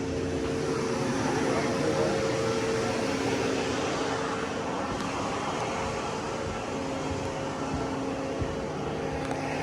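A dredge's cutter head spins with a continuous mechanical hum and steady whining tones over a broad rumble. The sound is close and unchanging throughout.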